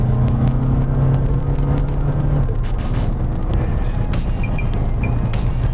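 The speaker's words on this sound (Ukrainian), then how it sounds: "Газ в пол, все-таки є якийсь прийомчик, воно трохи газує" Diesel Volkswagen Jetta engine pulling under full throttle, a steady loud mid-range drone with a low hum that drops away after a couple of seconds, continuous road and engine noise throughout.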